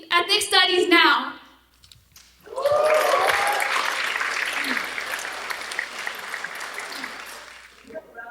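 Audience at the Little Manila community showcase breaks into applause after a short pause, a broad sustained clapping crowd following a brief voice at the start, with a sharp sound at the very end.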